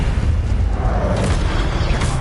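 Casting the Incendio fire spell in a Harry Potter video game gives off a steady, loud whooshing roar of flame with a deep rumbling body, sustained without a break throughout.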